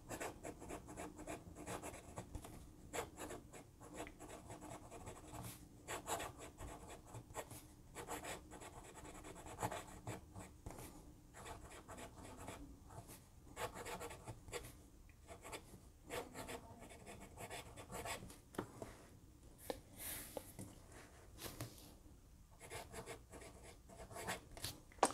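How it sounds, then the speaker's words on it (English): A Moonman M200 fountain pen with a Schmidt nib writes on paper, a soft continuous scratching with short pauses between strokes and words, close and quiet throughout. "Do a quick writing sample for you guys."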